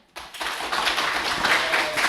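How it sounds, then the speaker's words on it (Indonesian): Applause from a class of students during a coaching lesson starts suddenly and continues as steady, close clapping, moderately loud. "Terima kasih buat tepuk tangan."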